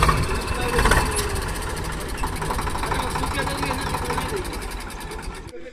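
A faulty tempo truck engine idles without revving, a steady close rumble running throughout under voices, cutting off at the very end.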